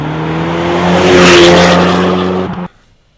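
A 2021 Ford Bronco EcoBoost engine gives one loud, sustained rev that climbs, holds for a couple of seconds, then cuts off sharply to near silence.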